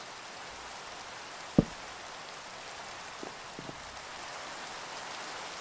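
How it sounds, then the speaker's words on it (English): Steady rain falling in the Minecraft video game, a soft even hiss throughout with a few faint clicks and taps. "it really rains a lot in Minecraft"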